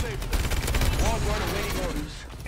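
Rapid automatic gunfire in the video game Call of Duty: Advanced Warfare, a dense burst of fast shots over about two seconds, loud and close, mixed with game effects.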